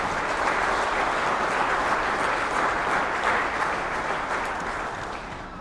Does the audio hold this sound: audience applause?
yes